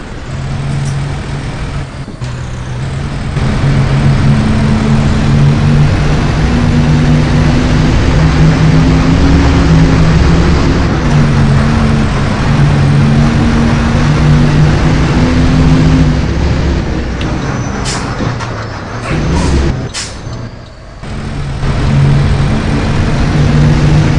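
Caio Apache Vip IV city bus on a VW 15.190 OD Euro V chassis, line 712, with its diesel engine running as a loud steady drone heard from inside, the pitch rising and falling as it accelerates, with a few brief clunks.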